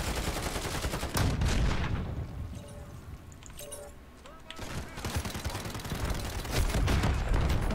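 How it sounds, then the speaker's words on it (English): Machine-gun fire in a multiplayer shooter, dense rapid bursts and booms, loud and close, with a brief lull midway before heavy fire resumes. "so the knifer went to a machine gun"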